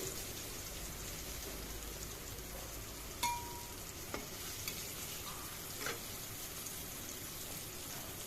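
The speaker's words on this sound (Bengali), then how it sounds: "বড়াগুলো ভাজা হচ্ছে, দেখো একটু ভাজা হলে, আর অল্প ভাজা হবে" Bara fritters for chanar dalna frying in hot oil: a steady, even sizzle throughout, with a few brief clinks and stirring sounds, close by and with no voices.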